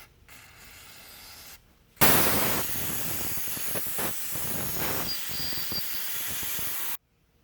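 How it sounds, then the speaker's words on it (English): Brake cleaner sprays in a loud, continuous hiss onto a Yamaha enduro motorcycle's side-cover gasket, starting abruptly, holding for about five seconds with slight wavering, then cutting off sharply. "I'm going to wash it off right now with some brake cleaner."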